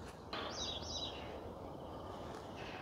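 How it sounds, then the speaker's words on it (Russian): Small birds singing outdoors near a lake in a quiet residential area of Saint Petersburg, two short chirping phrases early on, then faint background ambience. "Не в каждом месте Санкт-Петербурга можно услышать пение птиц."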